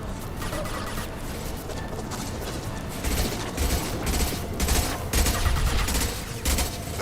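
Heavy gunfire in Mass Effect 2 on hardcore difficulty, a steady, dense stream of shots and mechanical clatter with sharper, louder blasts recurring near the end, close and continuous, no voices.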